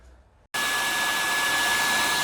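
A hair dryer heats the double-sided tape holding a Lenovo IdeaPad Gaming 3 15ARH7 laptop screen. After a brief quiet start it switches on abruptly into a loud, steady blowing roar with a thin constant whine.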